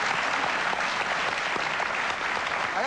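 Loud, sustained applause from a studio talk-show audience, a dense steady wash of clapping that holds evenly for about three seconds with no voices over it.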